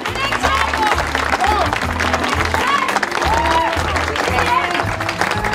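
A crowd greets a mayoral candidate's speech with steady, sustained clapping, dense and loud throughout, while voices speak over it.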